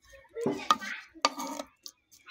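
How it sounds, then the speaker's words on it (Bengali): A spoon clinks and scrapes lightly against a clay pot while mutton curry is stirred, a few sharp metallic taps amid soft scraping, with a voice speaking briefly under it. "দিয়ে একটু চামচ দিয়ে আমরা নাড়িয়ে নেব হালকা করে"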